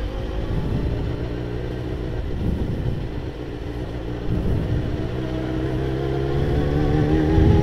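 A Yamaha XJ6 motorcycle engine revs loudly, a steady, droning, pitched engine note that rises and grows louder toward the end, with no voices.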